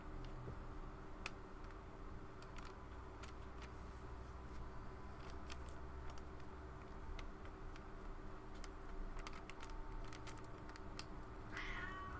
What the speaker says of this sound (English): That cat and his sounds like he smokes 6 packs of cigarettes a day voice.